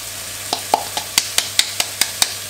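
A utensil stirs pasta sauce with parmesan in a pan over heat, with regular sharp taps about every quarter second over a soft sizzling hiss, close by.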